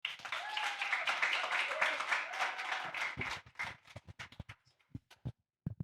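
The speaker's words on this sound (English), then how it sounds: "Let's welcome, with a round of applause," An audience at a startup pitch event applauds to welcome a founder, a dense round of clapping that thins out into scattered individual claps before fading to silence.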